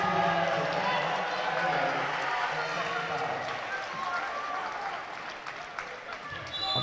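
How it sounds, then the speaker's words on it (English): Applause and cheering from the student section at a high school boys basketball game, Woburn against Melrose, a steady crowd roar with clapping throughout under a commentator's voice, with sneaker squeaks and court noise. "Applause there from the student section"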